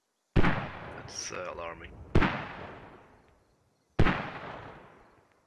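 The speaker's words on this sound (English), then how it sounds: "More mortars from British defensive point." Mortar rounds land in the video game Squad, three loud, sharp booms each trailing into a long rumbling decay, spaced about two seconds apart, with a voice talking briefly after the first impact.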